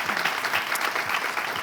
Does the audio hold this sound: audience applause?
yes